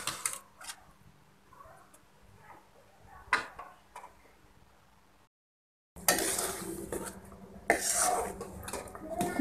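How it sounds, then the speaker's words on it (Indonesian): A metal spoon scrapes and clinks against a cooking pot while coconut milk soup for beef rib soto tangkar heats, soft intermittent knocks at first, then louder, busier stirring after a brief gap. "sekarang kita masak lagi sampai santannya mendidih. Dan sambil kita aduk ya"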